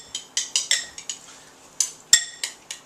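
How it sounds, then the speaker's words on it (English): Salad greens and shrimp are tossed in a bowl with vinaigrette and chunky tomato salsa, and utensils clink against the bowl in quick, uneven taps close by. "So we'll toss these in with the vinaigrette and our chunky fresh salsa."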